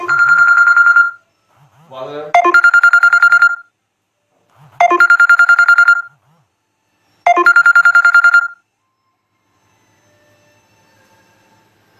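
A telephone bell rings in four loud, even bursts separated by short silences, with a voice speaking briefly in a gap between the rings.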